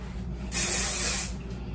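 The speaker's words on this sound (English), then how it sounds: "Add some hairspray so it doesn't fall out too much." An aerosol can of hairspray gives one short burst of close, loud hissing spray that lasts under a second, with no talk.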